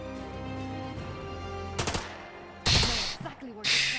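Gunfire in the video game Lamplighters League: a couple of sharp shots, then two loud bursts of firing with ringing tails, set against a humming tonal game score.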